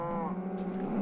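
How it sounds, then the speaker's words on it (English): Cows in the Minecraft Tekkit Classic game mooing, one drawn-out low moo heard loud and close with nothing else over it. "These cows seem very concerned."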